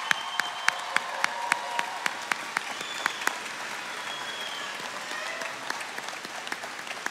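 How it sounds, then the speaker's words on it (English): Graduating class applauded at a 2018 ECPI University commencement ceremony in Newport News: a large audience claps in a steady, sustained wash, with sharp individual claps standing out at regular intervals throughout. "Let's give them another round of applause"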